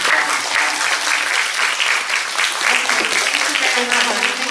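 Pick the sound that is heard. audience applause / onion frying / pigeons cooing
audience applause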